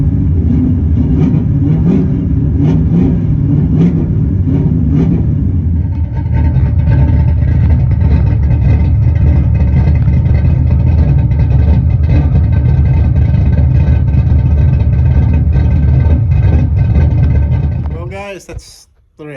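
A Chevrolet Camaro Z/28 big block V8 runs loudly and steadily close by, its deep rumbling idle holding nearly the whole time before cutting off abruptly near the end.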